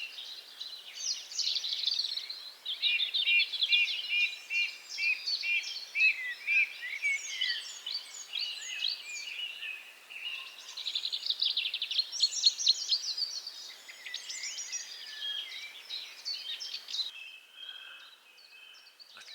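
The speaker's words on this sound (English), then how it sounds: "let's sit and chill for a minute or two, listen to the birds." Several birds sing and chirp together in the woods in a lively, continuous chorus, some trills and sharp tweets overlapping at moderate distance, with no voices.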